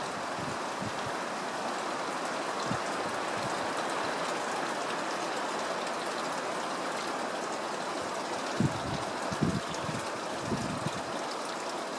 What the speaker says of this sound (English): The little creek is actually quite interesting here.